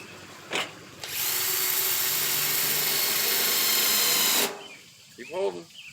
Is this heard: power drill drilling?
yes